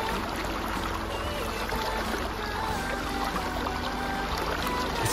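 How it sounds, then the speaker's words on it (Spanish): Flowing water runs steadily through a natural outdoor setting, a continuous near rushing and trickling wash that holds even from start to finish with no voices. "Escuchen ese sonido del agua. Es hermoso, mi gente."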